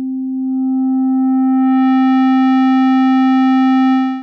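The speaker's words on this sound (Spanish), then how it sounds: "por acá tengo un efecto de saturación, voy a activarlo y voy a ir aumentando el drive" A low sustained MIDI note plays alone through a saturation effect as the drive is turned up, a steady pure tone that gradually gains a dense stack of bright upper harmonics over about four seconds before cutting off.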